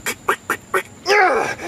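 A duck quacks close by: four short, evenly spaced quacks, then a longer, raspier drawn-out quack, loud and with no other sounds around it.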